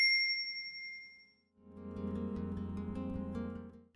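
A single bright notification bell ding rings out and fades over about a second and a half. A sustained, fuller musical tone follows it, and no one speaks.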